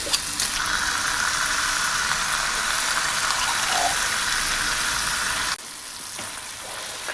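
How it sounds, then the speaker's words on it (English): Tomato sauce and paste get stirred into beef in a skillet over a constant loud sizzle, with soft stirring noises. The sizzle drops sharply near the end and continues more quietly. "Put in the tomato sauce and the tomato paste."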